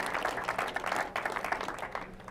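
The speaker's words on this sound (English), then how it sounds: "Clapping for myself" Audience at a youth coaching and teaching summit applauding after a fitness and golf talk, a soft, continuous patter of many hands clapping at moderate distance and fading slightly toward the end.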